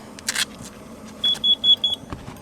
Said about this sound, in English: Why is this thing beeping?